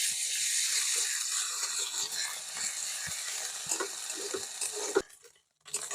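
Ginger-garlic paste frying with onions in a pan for a taro and prawn curry, a bright steady sizzle with soft stirring scrapes that abruptly drops away near the end.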